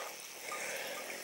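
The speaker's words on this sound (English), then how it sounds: "Sound of the babbling brook." A small brook trickles and babbles on a wet hillside near Burrington Combe, a soft, steady wash of running water heard fairly close with no voices.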